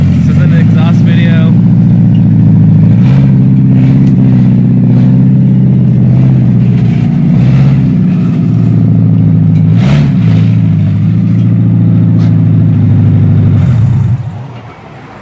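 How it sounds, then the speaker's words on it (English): A loud, lumpy LS V8 swapped into a Nissan 240SX with aggressive cams rumbles and revs through headers and a 3-inch catback exhaust, steady with blips of throttle, cutting off at the end. "we actually LS swapped the 240 with aggressive cams"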